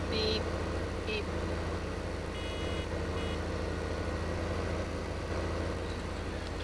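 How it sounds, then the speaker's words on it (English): A vehicle in Farming Simulator 15 sends out a few reversing beeps over a steady, loud droning engine hum. A voice speaks over part of it. "every time it beeps, I push backwards a little bit"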